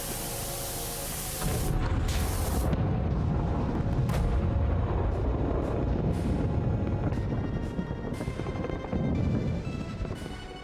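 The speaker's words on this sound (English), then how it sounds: "That sounded like some explosions?" Explosions in the PowerWash Simulator video game, a loud roaring, noisy blast that swells at about 1.5 seconds and rumbles on with further bursts and crackles to the end, with no talk.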